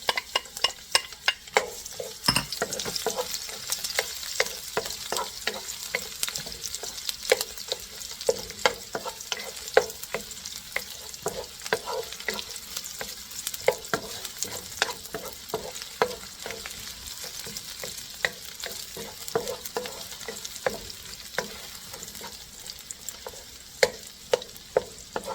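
Garlic sautéing and being stirred in a hot pan for pancit canton, with steady close sizzling and repeated sharp scraping clicks of a utensil throughout, no talking.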